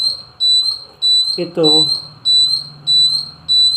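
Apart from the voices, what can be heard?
long range infrared security alarm sounding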